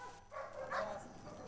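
Dogs seized from a breeding kennel barking: a few faint, muffled yips and barks overlap over a second and a half, heard at a distance beneath a low background murmur.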